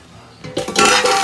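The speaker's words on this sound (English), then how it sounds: "dump those suckers in a colander" Cooked potatoes tipped from a pot into a colander, a short loud metallic rattle and clatter that swells after a brief quiet start.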